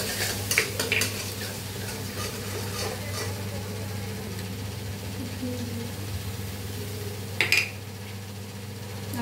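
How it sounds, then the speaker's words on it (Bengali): Spice paste with softened tomatoes is stirred and fried in a pan, giving a steady low sizzle with intermittent scraping and clinking of a utensil against the metal, while a voice talks over the cooking. "এটা ভালো করে কষিয়ে নেবো।"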